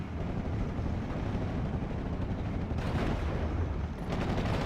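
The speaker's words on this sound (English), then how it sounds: "We do got a mortar barrage into this area." A mortar barrage with gunfire in the Steel Division 44 war strategy game, a dense, continuous roar of blasts and crackling shots that stays loud throughout, with sharper bursts near the end.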